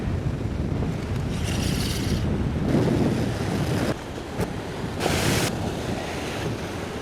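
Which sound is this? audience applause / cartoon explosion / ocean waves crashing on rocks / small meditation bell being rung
ocean waves crashing on rocks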